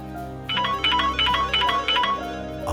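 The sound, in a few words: mobile phone ringtone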